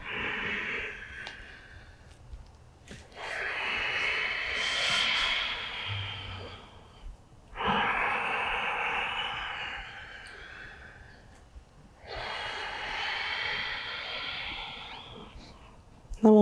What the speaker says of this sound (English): A couple more times with the sound of your breath.